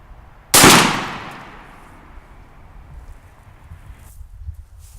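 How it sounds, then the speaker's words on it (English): A 28 gauge shotgun with a full choke fires one load of 1 ounce number 6 shot outdoors. It makes a single sharp, loud report that rings out and fades slowly, followed by quiet ambient noise. "Today we'll start at 40 yards with a full choke, and we're shooting 1 ounce of number 6 shot real ammunition to start with"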